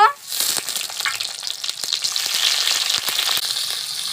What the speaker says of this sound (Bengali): আমগুলোকে তেলের সাথে ভালো করে নেড়ে নেব